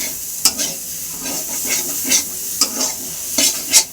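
Minced meat with peas and spices fries loudly in a pan. A spatula stirs it in a steady rhythm with repeated clinks and scrapes over a constant hiss, and no one speaks.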